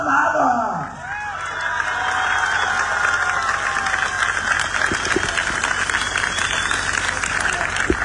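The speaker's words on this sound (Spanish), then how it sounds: "un fuerte aplauso no cuesta nada" Crowd at an outdoor political rally for a mayoral race in San Blas, a steady wash of applause and cheering mixed with crowd noise and babble, continuous and loud throughout.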